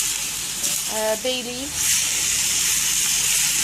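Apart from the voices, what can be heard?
black pepper and spices sautéing in pan for rice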